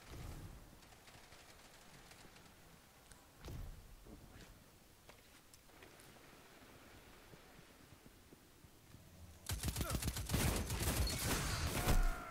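Bursts of heavy hand cannon gunfire in Destiny 2 erupt intermittently, with a sharp shot early on and a dense, loud barrage of rapid blasts near the end.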